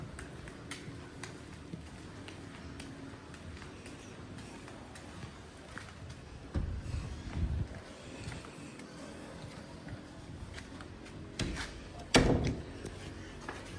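A newly installed door in a house under construction closes with a soft thud and clunk around the middle, then a sharper knock near the end, against faint background noise.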